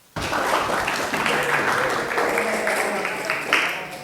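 A class of students breaks into applause after a debate presentation, many hands clapping at once in a dense, continuous burst that starts suddenly and stays strong, with some voices mixed in.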